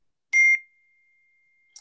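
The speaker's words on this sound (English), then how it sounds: "Beep there. You want to answer that?" During a video call, a single short electronic beep sounds clearly against silence, and a faint chirp follows near the end.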